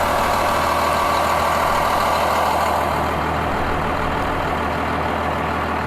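A car engine runs steadily with the hood open, a loud, close idle rumble that holds even and uninterrupted throughout, with no voices over it.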